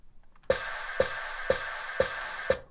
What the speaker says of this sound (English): I found like a snare drop